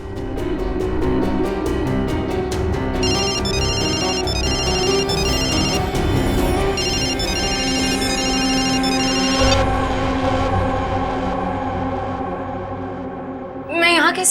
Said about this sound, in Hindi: इसका मतलब है पायल का ये फोन, इसका रिंगर, ये ट्रिगर है।